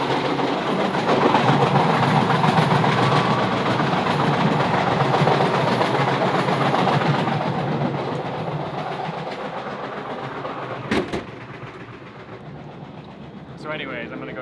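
Loud, continuous rumbling and rattling between carriages of a moving overnight train in Egypt, heard from close by, with a sharp metallic clank near the end.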